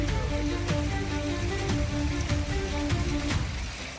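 Heavy monsoon rain pours steadily in Jamnagar, Gujarat, a loud, unbroken hiss of drops drumming on surfaces with occasional sharper splatters, and no voices.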